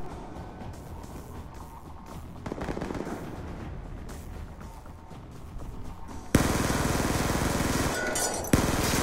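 Automatic rifle fire in Call of Duty: Black Ops 2 crackles in steady bursts over game ambience, growing louder and more continuous in the final seconds.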